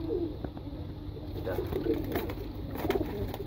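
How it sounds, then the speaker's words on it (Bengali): Army pigeons kept as pet birds coo softly in repeated low, throaty phrases close by, several overlapping calls over a light background hiss. "আর আমার অনেক শখের একটা কবুতর, এটা আর্মি কবুতর।"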